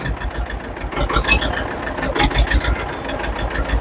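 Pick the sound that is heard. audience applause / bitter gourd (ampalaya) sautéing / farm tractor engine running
farm tractor engine running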